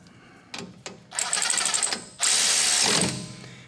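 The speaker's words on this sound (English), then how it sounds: "grab my 13mm socket and just snug them down" Bolts on a Ford F-series rear brake assembly snugged down with a 13mm socket: a few short mechanical clicks, then two longer loud bursts of whirring, ratcheting metal, close up with no talk.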